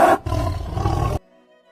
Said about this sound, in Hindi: शेर जोर से दहाड़ा।